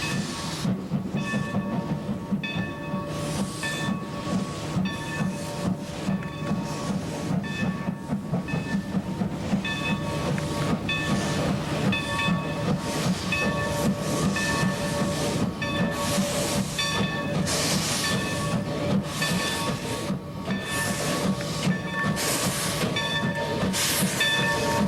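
A special train departs Zacapa, Guatemala, with a continuous rumble, hiss and rhythmic clatter of wheels over rail joints, steady and close throughout with no voices.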